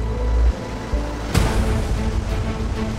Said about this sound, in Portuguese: As ondas aqui podem chegar a 12 metros de altura.